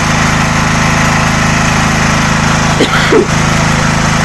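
A Dnipro-M GX-70E generator engine runs on gas, a loud, close, steady drone at constant speed with a brief cough from someone nearby.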